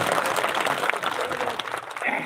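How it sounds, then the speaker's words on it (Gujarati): Applause from an audience at a large farmers' gathering, sustained clapping that fills the whole stretch at an even level, close and dense, with no gap or fade. "તાળીઓથી એક વખત ફરીથી વધાવો ઈશુભાઈને."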